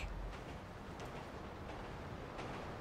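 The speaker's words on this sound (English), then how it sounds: "Oh, here comes the train!" A train in the video game GTA V rumbles steadily throughout, a continuous low-heavy roar with faint rhythmic clatter, fairly close and without speech.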